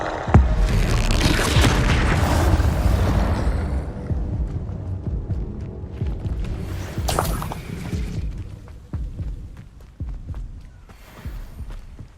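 Confringo blasting spell explosions in the Hogwarts Legacy video game: a heavy, booming blast up front with dense rumbling, then scattered thuds and sharp bursts fading in and out over the rest.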